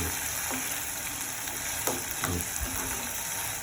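Food frying in a pan with a steady low sizzle and faint intermittent scraping as it is stirred, heard close in a home kitchen.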